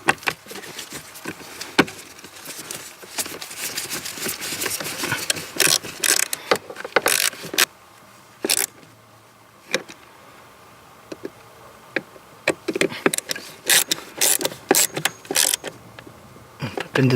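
Screws being driven by hand back into the plastic blower motor housing of a BMW E36, a run of small ratcheting clicks and ticks in bursts with brief pauses, close by.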